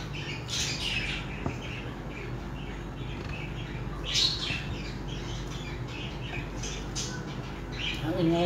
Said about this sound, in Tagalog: Ang ingay ng aking background kasi ang aming tawag nito. Aming alagang ibon.